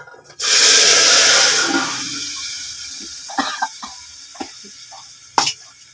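Hot oil tempered with popped mustard seeds poured into guvar and potato curry, a loud burst of hissing sizzle that fades over a couple of seconds, followed by scattered clinks and small knocks.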